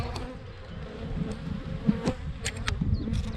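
Honey bees buzz steadily in a dense, close hum at an opened hive during inspection, with a few individual bees droning louder as they pass near.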